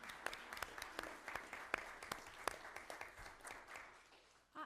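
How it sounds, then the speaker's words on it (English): A thin round of applause in a school district governing board meeting room, a handful of people clapping in distinct, fairly faint individual claps that fade out. "So I think we need to give them a round of applause."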